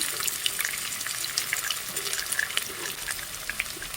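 Ginger and garlic dropped into a heavy pan to fry, giving a steady bright sizzle with small crackles and pops, close and continuous with no voices.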